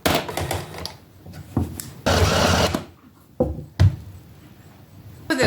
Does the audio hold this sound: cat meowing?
no